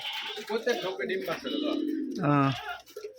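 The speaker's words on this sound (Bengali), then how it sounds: "এই যে এখানেও কিছু কবুতর আছে" Pigeons coo at a Rajshahi Giribaz pigeon farm, their low throaty calls heard close under someone talking over them.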